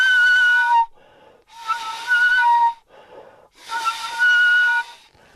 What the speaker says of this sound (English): we put a balloon over the film can, and if you just put your mouth half on it and blow